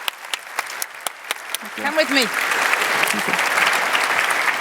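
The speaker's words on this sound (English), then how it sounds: "So why don't we give another round of applause for Daniel Banks" An audience applauds at the Jfokus 2020 developer conference: sparse claps at first, then a full, dense wash of clapping through a large room, with a voice speaking briefly over the start.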